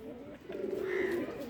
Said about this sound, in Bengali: এটা মাদি কবুতর ভাই